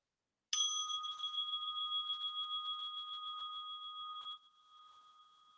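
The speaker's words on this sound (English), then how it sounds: "So you hear a starting bell here shortly." A single bright starting bell opening a holistic wellness session, struck once and left to ring with a clear, steady tone that fades slowly over several seconds in a quiet room.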